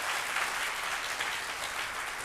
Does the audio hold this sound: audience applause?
yes